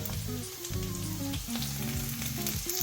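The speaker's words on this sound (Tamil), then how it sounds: "பிரியாணியில், வெங்காயம், மிளகாய் போடுவோம்." Onion and chilli frying in oil for soya biryani, a loud continuous close sizzle with a crackling texture throughout, no voices.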